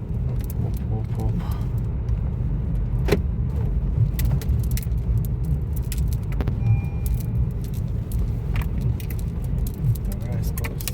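A Honda car drives along with a steady engine and road rumble, joined by light rattling and jingling inside the cabin, while people talk over it.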